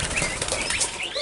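Pigeons flap their wings in a caged aviary, a close, loud flurry of rapid wingbeats lasting about a second, with no voices.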